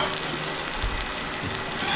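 Margarine sizzles steadily in a hot pan, a continuous crackling fry noise heard up close with faint clinks and no talking.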